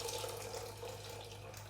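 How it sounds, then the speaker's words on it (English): Boiling water poured from a kettle into a large saucepan, a brief steady splashing pour, close but soft. "cover those with boiling water straight from the kettle"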